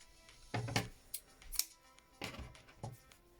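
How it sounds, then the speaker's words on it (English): Scissors snip through crochet yarn in a few quick, close cuts, soft and isolated against a quiet room with no talking. "Now we can cut the yarn."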